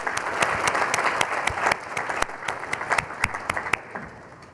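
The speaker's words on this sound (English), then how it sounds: "Let's all kind of give it a round of applause for all the volunteers and all the organizers." A conference audience applauds in a full, dense round that thins toward the end into a few scattered, sharper claps from nearby hands.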